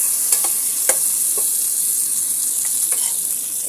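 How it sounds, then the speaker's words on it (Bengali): Onions fry in ghee with cardamom, star anise and bay leaves for Bengali pulao, making a loud continuous hiss with a few soft scraping stirs, close by. "পেঁয়াজের সঙ্গে এগুলো আমি সুন্দর করে এখন ভেজে নেব"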